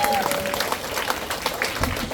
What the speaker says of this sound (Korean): 여러분 자신을 위해서 박수 한번 치고 시작하도록